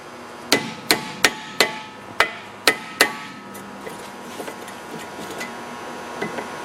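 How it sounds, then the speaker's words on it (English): Seven sharp metal hammer strikes on a pry bar wedged into the ears of an Audi A4 Quattro upper control arm mount, evenly spaced over three seconds, close and loud, followed by a few faint knocks and quiet workshop handling. "The method I use is I use a pry bar, hammer, stick it right in there"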